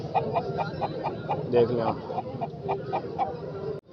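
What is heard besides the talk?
Aseel rooster clucking at a chicken market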